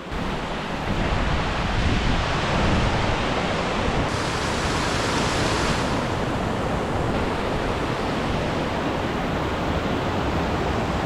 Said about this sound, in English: I'm right at the base of this waterfall